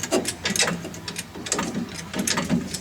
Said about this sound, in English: You can jack that up a little bit.